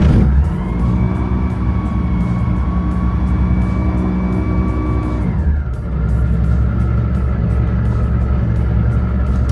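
Rotax 916 iS engine on an ARGON GTL three-seat experimental gyroplane running steadily, a loud continuous drone with a sustained tone that drops in pitch partway through, close and alone with no talk.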